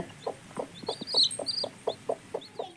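A hen with newly hatched chicks gives a steady series of about ten soft, rhythmic clucks close by, while high chick peeps chirp faintly above them.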